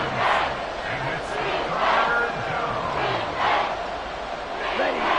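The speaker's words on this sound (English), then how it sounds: "The Arrowhead crowd in full roar" Roaring crowd at Arrowhead Stadium during a football game, a dense sustained wall of cheering voices swelling and easing in waves, loud and continuous across the whole stretch.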